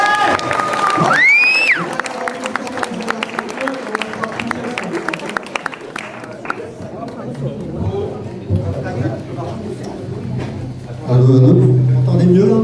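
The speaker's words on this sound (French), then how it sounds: "je crois qu'on peut les applaudir très très fort." Applause and cheering from an audience at a conference, with shouts and scattered clapping near the start, then fading into crowd chatter and voices talking as a loud hum rises at the end.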